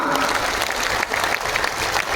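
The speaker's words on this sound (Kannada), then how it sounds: "ಜೋರು ಚಪ್ಪಾಳೆ ತಟ್ಟೋದ್ರ ಮೂಲಕ ಭಕ್ತಿಗೆ ಸಾಕ್ಷಿಯಾಗೋಣ" Audience at a Basava culture campaign closing ceremony on the palace grounds in Bengaluru breaks into loud, dense, sustained applause from a large crowd.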